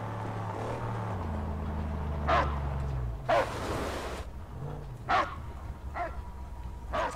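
A dog barks in the Mad Max video game, with about five sharp, separate barks spaced a second or so apart. A low engine rumble drones underneath at first, then fades.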